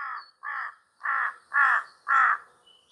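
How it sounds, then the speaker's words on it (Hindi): Five loud, harsh caws from a crow in a hillside forest at Ayubia come in a steady, evenly spaced series, close and clear against near silence. "कौवा उड़ता जा रहा है बस।"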